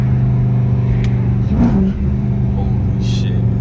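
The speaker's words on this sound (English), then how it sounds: "I haven't floored this car in a minute." A 478hp all-wheel-drive Dodge Charger R/T pulls hard at full throttle at night, its deep engine rumble steady and close inside the cabin with the windows down, rising briefly mid-run.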